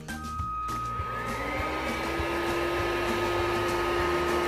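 Xiaomi SWDK KC101 mattress vacuum cleaner switched on at low speed, starting up into a steady motor whir with a rising tonal whine and a faint rhythmic ticking beneath, close and continuous.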